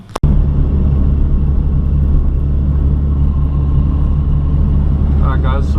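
Ford AU sedan driving after a steering rack replacement, a steady loud low road rumble and engine drone heard from inside the cabin, starting after a sharp click and continuing evenly.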